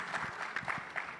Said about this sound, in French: Je vous prie d'applaudir pour vous.